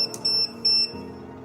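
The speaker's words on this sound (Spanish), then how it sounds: "El equipo nos avisará con una pequeña alarma audible que ha sido energizado." An industrial UPS unit sounds its audible alarm after being powered on: two short, shrill electronic beeps in quick succession, close and clear over a steady low hum.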